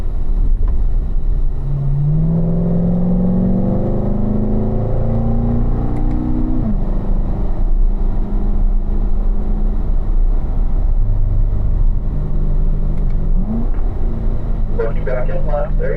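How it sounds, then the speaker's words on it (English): A race car accelerates out of a corner on a track, its engine note rising in pitch as it pulls away, heard from inside the car with a person talking over it throughout. "Then accelerate off the corner."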